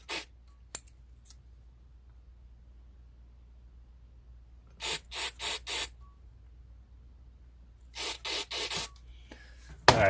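Short hissing bursts of carburetor cleaner sprayed through the small holes of a John Deere Z445 zero-turn mower carburetor, coming as a quick single spurt and then two clusters of four rapid blasts, close and sharp, separated by quiet.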